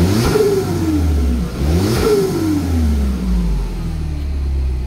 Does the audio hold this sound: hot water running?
no